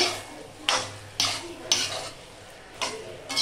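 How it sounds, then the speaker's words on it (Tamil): Pasta and cream being stirred in a pan, each stroke a soft scraping swish, repeating about once a second over a faint low simmer, close by and fairly quiet, with no talking. "க்ரீம் ஆட் பண்ணி கொஞ்சம் நல்லா கலந்து விட்டுக்கோங்க"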